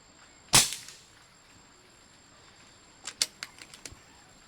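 An air rifle test-firing 18-grain pellets gives one sharp, loud crack, followed after a pause by a rapid cluster of lighter clicks and taps.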